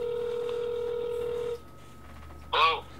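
iPhone keypad dialing tones: a steady pure tone holds for about a second and a half, then stops, followed by a short burst of a louder chirping tone near the end, over a faint background hum.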